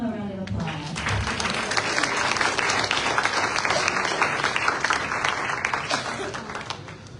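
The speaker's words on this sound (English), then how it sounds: "So can we give them a round of applause?" A round of applause from a crowd at a K-pop pop-up event, greeting senior directors who are about to demonstrate with their models; dense, steady clapping fills the whole stretch at close range with voices mixed in.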